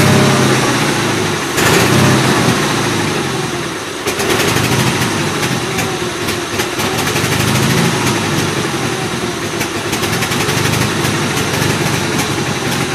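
A carbureted engine on a Gravely 8163-T tractor runs rough and loud nearby, droning steadily with uneven surging and a sputtering, flooded character throughout.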